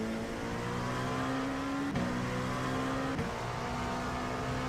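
An LMP2 Ligier P217 race car in the iRacing game at Watkins Glen holds a steady engine drone, quiet and continuous, with two quick gear shifts breaking the tone partway through.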